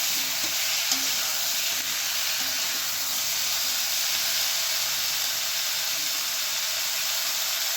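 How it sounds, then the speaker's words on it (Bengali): Vegetables with slit green chillies frying in a pan give off a steady, even sizzling hiss that runs unbroken throughout, with no voices. "সব কিছু মিশিয়ে আবার একটুখানি ভেজে দেবো"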